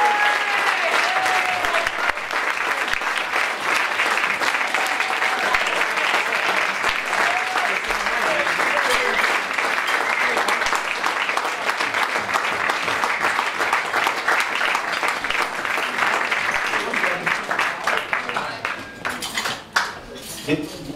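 Sustained, loud applause from a crowd at a black tie ball in a Hilton hotel in Stansted, dense clapping running for about eighteen seconds before thinning out at the end, with some voices mixed in.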